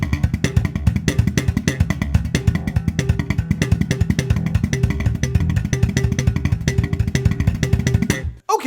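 Slap bass guitar played with left-hand slap triplet licks, a dense, even stream of percussive plucked notes driving for about eight seconds before stopping abruptly.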